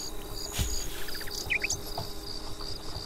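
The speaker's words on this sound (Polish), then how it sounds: "Teraz będę z pszczołami chodził?" Bees buzz in short high bursts over a steady low hum in the video game Lakeview Cabin, fairly faint and without any talking.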